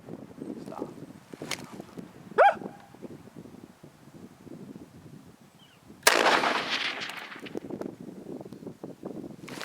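A Savage Model 11 .223 rifle fires at a coyote, a single sharp report about six seconds in, its broad blast and ringing tail standing out over a steady outdoor background with some bird calls earlier.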